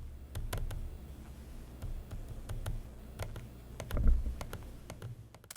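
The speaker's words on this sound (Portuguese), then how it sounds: "faz aquele barulho de plástico batendo com plástico" A loose plastic touchpad on a Lenovo LOQ laptop clicks and taps, a steady run of light sharp clicks with a slightly rattly, hollow quality, close up and without talk.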